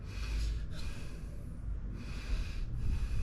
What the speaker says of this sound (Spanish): porque una respiración no silenciosa sería...